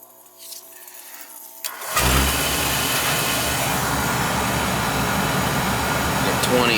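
A hydronic boiler comes back on after power is restored. A quiet, faint hum gives way to a sudden ignition, then a steady, loud broadband roar as the burner runs.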